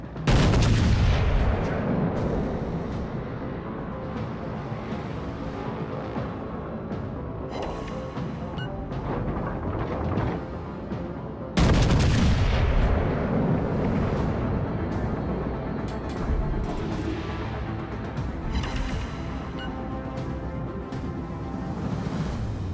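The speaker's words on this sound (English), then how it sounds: "Concentrate fire on the enemy warship." Warship guns firing at an enemy warship in a naval battle video game, heavy booming salvos with a sustained roaring rumble, loud and dense, one big blast near the start and another midway, no talking.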